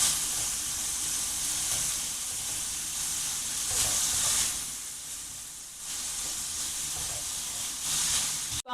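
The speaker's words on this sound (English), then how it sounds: "So I'm just going to fry it until all the meat" Minced meat for a meat pie filling fries in a pan with a steady, close hiss and sizzle that swells and dips slightly throughout.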